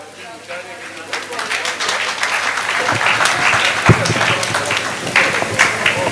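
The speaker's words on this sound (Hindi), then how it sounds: "आप तालियां बजा करके इस्तकबाल कीजिए डॉक्टर दिलशाद गोरखपुरी से।" Loud audience applause at a mushaira in Gorakhpur, India, welcoming the poet Dr. Dilshad Gorakhpuri, a dense sustained wash of clapping from a large crowd that swells and holds.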